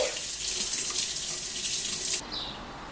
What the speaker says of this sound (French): maintenant on va rincer les plantes avant de les couper dans nos bouteilles